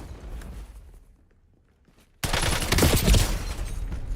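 AK rifle fire in the battle royale shooter Warzone, Verdansk solos: after a hushed stretch, a sudden loud, close burst of sustained automatic fire erupts and keeps rattling to the end.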